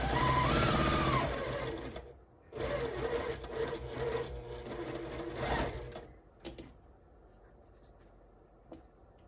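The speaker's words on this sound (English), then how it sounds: "So I'm gonna sew all these according to their instructions." A sewing machine runs in loud close bursts while stitching quilt block pieces, whirring for a couple of seconds, pausing briefly, then sewing again before fading into quieter handling noises.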